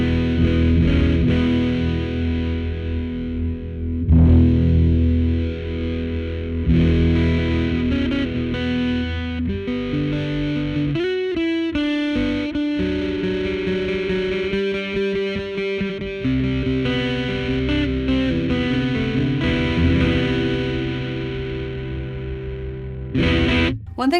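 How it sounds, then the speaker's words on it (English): Acoustic guitar played through an Apocalypse fuzz pedal with its drive being adjusted, giving a loud, heavily distorted, harmonically dense tone with sustained strummed chords and a few choppy, stuttering passages, no talking. "I can control the amount of drive on this one."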